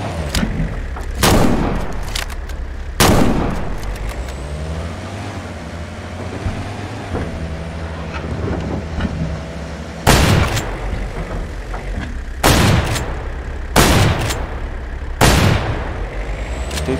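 Several loud, sharp gunshots in a fighter jet simulator video game, a pair early then a quick cluster near the end, over a steady rumbling engine drone.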